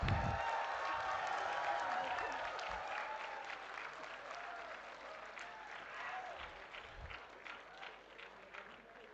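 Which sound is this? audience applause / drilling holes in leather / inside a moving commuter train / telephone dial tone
audience applause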